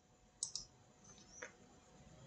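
A few quiet, scattered clicks of keys being typed on a computer keyboard, with two sharper taps near the start and a softer one later over faint room hiss.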